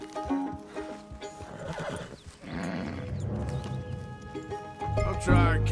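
A horse neighs and whinnies while hooves clip-clop in Red Dead Redemption 2, game sounds that stay fairly loud and near, mixed with in-game character voices and ambient music.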